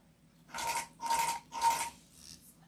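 Longarm quilting machine stitching through a Kantha quilt, three distinct mechanical bursts of whirring clatter at an even pace, followed by a fainter fourth, close and alone.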